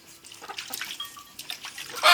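Water splashes and trickles as it is poured over cattle feed on a farm, a close, uneven dribbling with small drips, quiet at first and swelling into a louder gush at the end.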